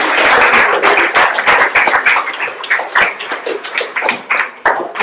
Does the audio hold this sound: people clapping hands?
yes